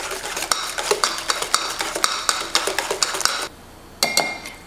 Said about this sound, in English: we're gonna go ahead and whisk it together until it's smooth